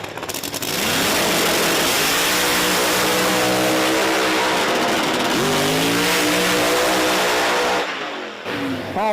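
Drag racing cars launch down the strip at Virginia Motorsports Park, engines roaring loud and close, pitch sweeping up through gear changes over several seconds before cutting off abruptly.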